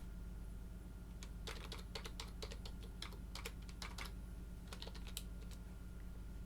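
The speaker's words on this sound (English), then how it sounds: "Type the password." Password keystrokes on a computer keyboard tapped out in quick, irregular bursts with short pauses, close and fairly quiet over a steady low hum, no voices.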